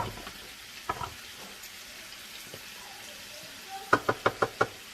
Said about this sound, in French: je vais faire dorer mes merguez à la poêle avec une cuillère à soupe d'huile d'olive